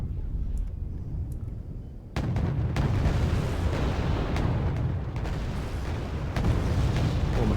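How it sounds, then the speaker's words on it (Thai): Artillery barrages pound the battlefield in the war strategy game Wargame Red Dragon. A quieter stretch of distant thuds gives way to sustained, heavy rumbling blasts with repeated sharp booms, loud and continuous. "ปืนใหญ่มายิงกันแล้ว"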